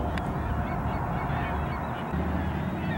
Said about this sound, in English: There's like three ducks right here.